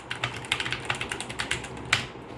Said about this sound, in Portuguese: Som do teclado.